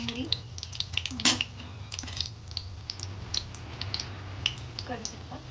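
Cumin and mustard seeds crackle in hot oil in a home kitchen pan, giving quick, irregular pops and sizzles over a low steady hum, with a brief burst of louder crackling partway through.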